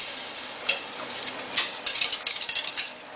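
A spoon works through thick chorizo and goat cheese croquette dough cooking in a pan, giving irregular scraping and sticky pushing strokes over a soft sizzle, with the strokes growing denser toward the end.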